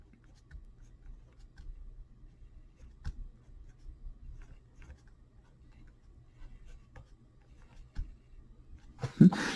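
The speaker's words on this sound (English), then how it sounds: "I'm going to write everything else exactly the way it was" Pen or marker scratching out a math problem by hand, soft intermittent strokes and taps close by, with a few louder ticks and a brief rustle near the end; quiet room, no speech.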